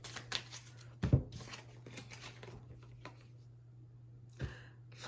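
Tarot cards are shuffled by hand at close range, a faint run of soft riffles and light clicks with a few sharper taps, over a low steady hum.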